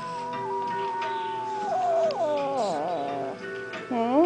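A kitten yowls at a chicken in long, wavering, rising and falling cries, close and fairly loud, continuing almost unbroken with a few shifts in pitch.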